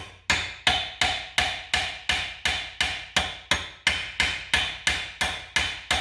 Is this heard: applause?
no